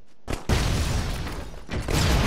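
Explosions in the run-and-gun video game Broforce, a loud sustained blast with a short burst near the start and another swell toward the end, dense rumbling crackle throughout.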